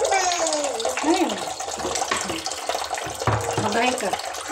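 Running tap water splashes steadily into a sink while dishes are washed, a continuous close hiss and gurgle with voices, including a child's, talking over it.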